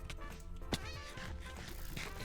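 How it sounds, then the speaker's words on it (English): A player makes cat meowing sounds while wearing cat sniffers during a multiplayer video game match, giving a few short, close meows in a row. "I'm only making cat sounds because I've got the cat sniffers on"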